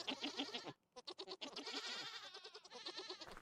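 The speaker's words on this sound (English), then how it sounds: "We still have to harvest these goats here." Goats in the video game Vintage Story bleat repeatedly in quick, overlapping, wavering calls, fairly close and continuous with a brief pause early on.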